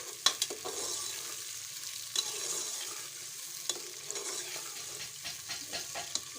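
Onions fry in ghee for chicken korma, a steady bright sizzle broken by irregular clinks and scrapes of a spoon stirring in the pan, close and moderately loud with no talking.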